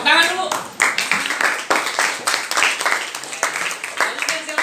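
A class of students in an Indonesian school claps together in quick, rhythmic bursts of sharp hand claps, close and lively, with voices mixed in.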